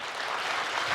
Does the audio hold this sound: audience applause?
yes